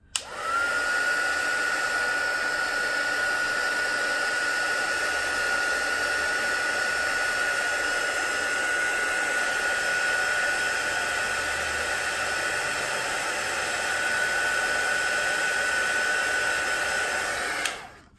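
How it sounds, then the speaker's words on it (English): A heat tool blowing over watercolour paint to dry it, a steady loud whirring hiss that runs unbroken for about seventeen seconds before switching off. "So I'm just gonna make sure mine's dry first by using my heat tool."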